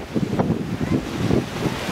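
Ocean waves in a cross sea, where swells meet at right angles, surge and wash in loud rolling pulses mixed with gusty wind buffeting the microphone.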